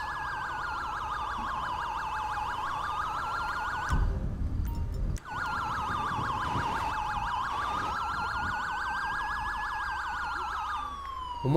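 Ambulance and emergency vehicle sirens in the GTA V LSPDFR game, overlapping wailing and rapid yelping tones that cut out briefly partway through, then resume loud and continuous.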